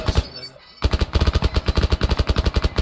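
Rapid bursts of automatic gunfire from a SAR rifle in a multiplayer shooter game, loud and close, firing in a steady rhythmic stream after a brief pause, with players talking over it.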